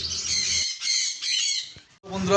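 Pet conures such as sun conures squawk loudly at a bird shop, harsh repeated calls in close bursts with short gaps between them.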